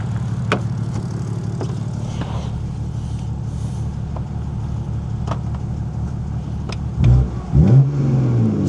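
A BMW drift training car engine, freshly fitted with new oil and spark plugs, idles with a steady nearby rumble, then revs sharply twice near the end, the surges rising and falling loudly.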